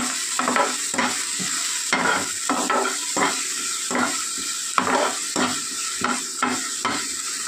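Green chilli and onion frying in a pan, with a steady sizzle and a run of rhythmic scraping stirs of the spatula, close and clear, with no voices.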